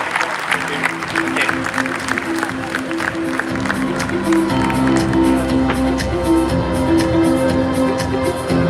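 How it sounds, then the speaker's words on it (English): An audience applauds panel guests at Binance Blockchain Week in Dubai, dense steady clapping carrying loudly across the whole stretch from a sizeable crowd, with a sustained tonal background, likely music, running underneath. "Big applause to our guests here"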